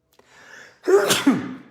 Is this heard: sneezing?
yes